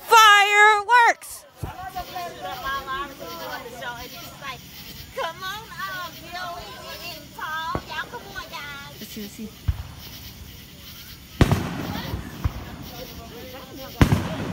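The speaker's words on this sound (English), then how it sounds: "Light the fireworks up!" Fireworks bang and crackle in scattered bursts, several sharp booms spaced apart, while people cheer and shout excitedly nearby.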